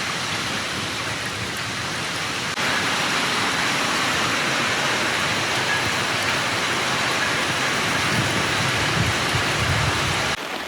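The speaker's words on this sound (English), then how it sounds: "Pouring with rain again." Heavy rain pours down in a steady, dense hiss, loud and unbroken throughout, with a slight swell in intensity partway through.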